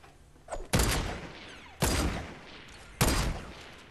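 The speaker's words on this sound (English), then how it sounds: "Oh my gosh, somebody shooting me." Three loud, close bursts of gunfire in the video game Fortnite, each a sharp crack with a decaying tail, spaced about a second apart.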